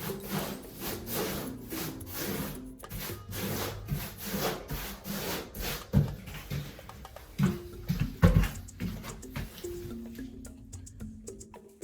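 Mortar spread with a float over floor-heating cables, a series of rhythmic scraping and rubbing strokes, close and moderately loud, with a few louder knocks partway through.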